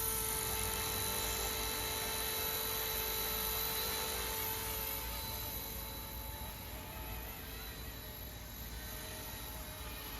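Bell 206 micro RC helicopter with two balanced rotor blades flies nearby, giving a steady high-pitched electric whine and soft rotor hum that holds for the whole stretch with no talk.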